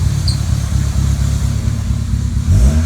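A K24-swapped Honda Civic engine running loud and close with a rough, cam-like lope, climbing into a quick rising rev in the last half second.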